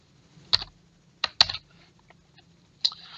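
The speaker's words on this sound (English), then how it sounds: "So I've just typed pH into that first cell" A few sharp computer keyboard keystrokes, typing a short entry into a spreadsheet cell: isolated clicks in small bursts with pauses between them, close and fairly quiet.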